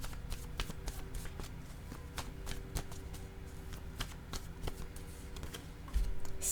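A deck of playing cards being shuffled again and again, with crisp riffling bursts in a steady rhythm against a quiet room background, recorded close and fairly soft.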